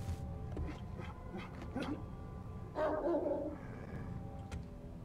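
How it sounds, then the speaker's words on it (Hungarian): A dog barks and whimpers in the survival game 7 Days to Die, several faint yips and barks scattered over a low background rumble, with a voice briefly present. "Megállás nélkül ugat."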